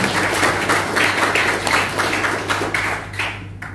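Audience applause at a university welcome event in Ternate, Indonesia, a dense continuous wash of many hands clapping at close range that holds for several seconds before thinning out.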